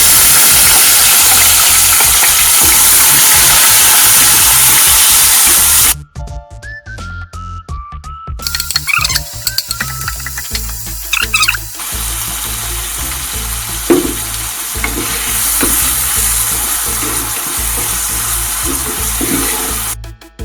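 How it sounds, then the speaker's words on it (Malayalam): Shallots sautéing in hot oil with popped fenugreek and mustard seeds for a Kottayam fish curry make a loud, steady sizzle, broken by a short pause and clattering before the frying resumes and continues. "ഉലുവയും കടുകും പൊട്ടിക്കഴിയുമ്പോൾ അതിലേക്ക് നമുക്ക് ചുവന്നുള്ളി ഇട്ട് വഴറ്റാം."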